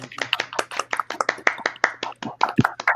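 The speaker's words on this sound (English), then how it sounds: "Let me clap it up." A single person claps hands close up during a podcast, giving about two dozen sharp, quick claps in a brisk, slightly uneven rhythm with no talking over them.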